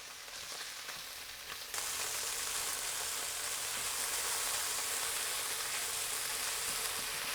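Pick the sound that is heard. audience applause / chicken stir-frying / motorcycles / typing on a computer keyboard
chicken stir-frying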